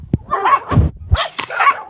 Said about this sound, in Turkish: Toplayıp toplayıp bütün sokak köpeklerini buraya getirdiler.